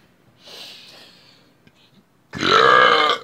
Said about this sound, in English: I'm sure you guys really are enjoying the burping.